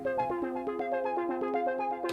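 Elektron Digitone synth playing an arpeggio for a techno jam, a steady run of bright, plucky repeating notes in a quick even pattern, close and clear with no voice over it.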